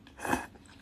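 Someone chews Baixiang brand instant noodles close to the microphone, a soft, brief crunching bite that swells and fades within a second, with no talking over it.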